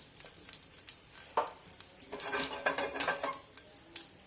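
Ghee heating in a pan crackles with a steady low sizzle, broken by a few clinks and scrapes of a utensil stirring against the metal, with no voices.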